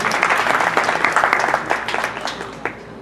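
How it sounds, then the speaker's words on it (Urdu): Audience applause at a poetry gathering, a crowd clapping loudly at first and then gradually thinning out, with a few scattered claps near the end. "راشد صاحب ایک بار اور تالیاں"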